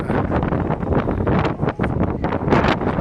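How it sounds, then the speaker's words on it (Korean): Strong wind buffets the microphone outdoors at a seaside park in Ulsan, a loud, continuous low roar with gusting surges and no voices. "바람 많으 불면은 그 소리를 좀 죽이고 어, 영상으로만 죽여주시기 바랍니다"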